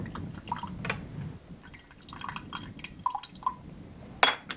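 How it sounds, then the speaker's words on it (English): Pu-erh tea is poured in small amounts, producing faint, scattered drips and light trickles with a brief clink of glass near the end. "Pour just a little bit so we can get the impression and not as many leaves."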